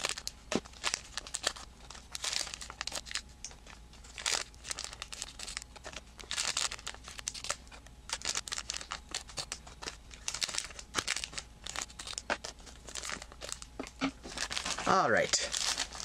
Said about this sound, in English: we'll speed up the video here while we cut open the packs again